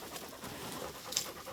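Tracking dogs pant rapidly and close by in the woods during the search for a wounded bear, a quick rhythmic breathing that runs through the whole short moment.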